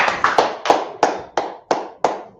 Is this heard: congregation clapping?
yes